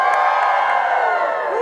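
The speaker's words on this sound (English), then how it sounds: "The crowd goes wild." A crowd cheers and whoops loudly, a dense wall of high shouting voices that holds steady and then tapers slightly at the end.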